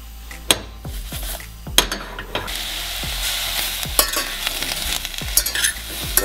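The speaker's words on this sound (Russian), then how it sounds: "Так, немного перемешиваем" Sweet apples with heaped spoonfuls of sugar stirred in a pan, a spoon scraping and clinking against the metal in a steady series of sharp taps over a soft continuous sizzle, close and moderately loud with no talking.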